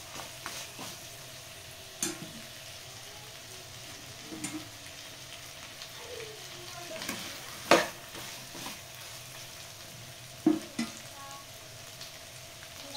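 Chicken fry sizzles quietly in a pan after coriander goes in, a soft steady hiss broken by several sharp scrapes and clinks of a spoon stirring against the metal.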